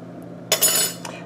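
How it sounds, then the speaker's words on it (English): Iced tea punch with orange and lemon juice is stirred in a pan, giving a short burst of clinking and scraping about a second long, with a faint tap just after. "And now I'm going to give that a stir."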